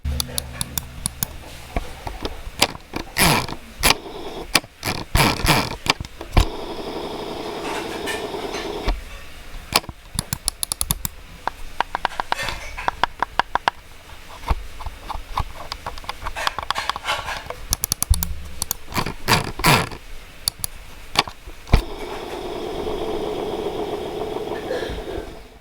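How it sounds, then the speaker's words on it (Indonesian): A Logitech MX Master 2S mouse gives sharp, crisp clicks in scattered bursts, mixed with the whirring rattle of its free-spinning scroll wheel, all close up and with no one talking. "klik dan scrollnya itu terasa sangat renyah. Apalagi fitur infinite scroll-nya."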